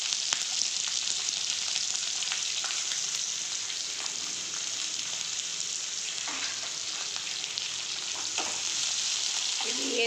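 Steady, close sizzling of mustard seeds, curry leaves, chillies and onion frying in hot oil, with occasional stirring clicks and no voices.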